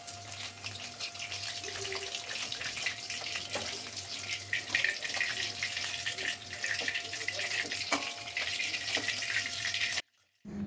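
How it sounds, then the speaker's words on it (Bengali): Pieces of rohu fish fry in a wok with a steady hiss and sizzle, fairly quiet and continuous, breaking off briefly near the end. "এইভাবে আমি বাকি মাছগুলো একে একে সব ভেজে নেব"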